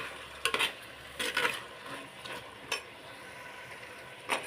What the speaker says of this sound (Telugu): ఫస్ట్ ఉల్లిపాయలు వేపుకొని దోరగా వేపుకొని